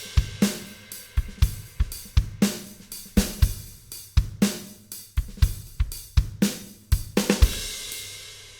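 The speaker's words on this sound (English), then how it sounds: "So here is my second drum sound." A Logic Pro Drummer pattern on an edited kit with the kick lowered and the snare raised in pitch for a nu metal feel, sharp regular kick and snare hits with cymbals in a steady driving groove, loud and alone.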